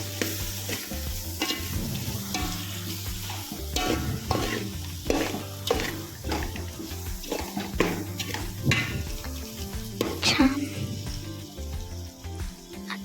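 Spiced vegetable pulao mixture with chicken masala, salt and coriander powder stirred in a pan, a steady close sizzle with repeated scraping strokes of the spoon throughout.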